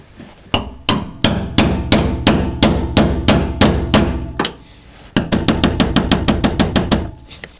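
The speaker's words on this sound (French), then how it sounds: "Donc, je vais faire rentrer ma douille au marteau." A hammer drives a socket onto a painted half-inch bolt head during a fuel pump change on a Ford Mustang. About a dozen sharp metallic blows land at an even pace, then after a brief pause a faster burst of close strikes follows.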